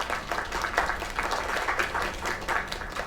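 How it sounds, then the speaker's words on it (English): Steady applause in the video game Lake, a dense wash of many hands clapping at once, fairly loud and unbroken. "Another round of applause."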